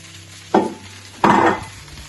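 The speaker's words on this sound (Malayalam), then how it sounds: "തേങ്ങ ആഡ് ചെയ്തതിനു ശേഷം നന്നായിട്ടൊന്ന് ഇളക്കുക" Two short scraping stirs of grated coconut through a drumstick and jackfruit dish in a hot pan, each a brief rasping swipe over a faint background hum.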